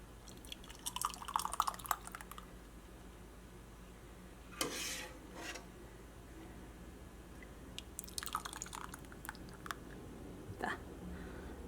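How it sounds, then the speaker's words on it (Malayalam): Palada payasam is poured into a glass, giving faint, soft liquid drips and splashes in a few short clusters separated by near-silence. "അപ്പോൾ പായസം ഞാൻ കുറച്ച് ഗ്ലാസ്സിലേക്ക് ഒഴിക്കട്ടെ"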